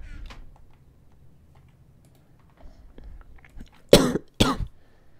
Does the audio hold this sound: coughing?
yes